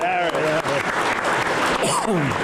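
Audience applause and cheers fill the room for Harry McGraw, a dense clatter of clapping heard under excited voices and whoops.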